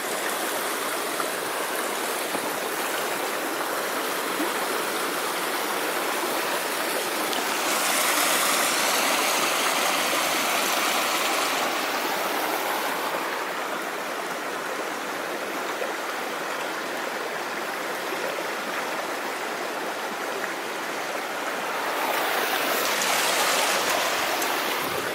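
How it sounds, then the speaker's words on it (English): Rushing high water in a stream roars steadily and loudly at close range, a continuous broadband wash that swells slightly at times, with no voices. "Some pretty high water."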